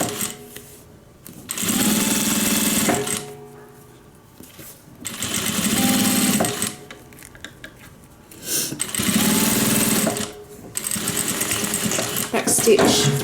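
A sewing machine stitches a bag seam for an airliner cabin bag, running in four separate bursts of steady buzzing with quiet pauses between them, close and fairly loud.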